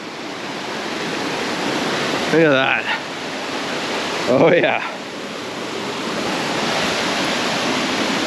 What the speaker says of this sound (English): You hear the waterfall down there.